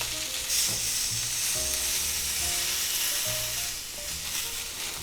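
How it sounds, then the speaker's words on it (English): The edges of a thick sous vide London broil steak sear in a hot pan, a steady close hiss with faint crackles and scattered light clinks, with no voices. "taking your time and searing this up good is what makes it taste really good."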